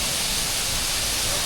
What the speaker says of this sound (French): Ça, c'est le cascade qui doit être de 50 mètres, la hauteur.